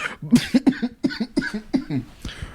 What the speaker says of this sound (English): Sorry, don't know what happened there. Coughed.